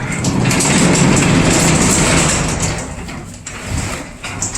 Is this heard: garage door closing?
yes